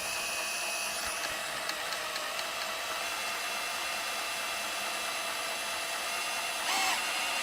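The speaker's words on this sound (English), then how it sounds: "spin it counterclockwise to start pumping oil, and we'll see how long it takes." A drill spins the oil pump drive of an FE360 engine counterclockwise, giving a steady, close, high-pitched whine with faint ticking through the run.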